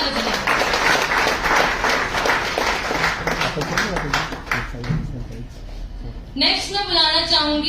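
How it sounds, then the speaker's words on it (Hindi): Loud, dense audience applause at an award ceremony in Udaipur fills the room for several seconds, then fades out as a voice comes in over it near the end. "जोरदार तालियां बजाएं"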